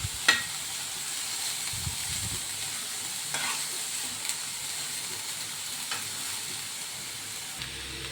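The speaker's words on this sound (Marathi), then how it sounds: "मी ना नीट जरा परतू देते, किंवा म्हणजे थोडंसं फ्राय होऊ देते चांगलं असं" Sprouted moth beans (matki) fry and sizzle steadily in a pan, with a few brief clinks and stirring scrapes over a continuous hiss.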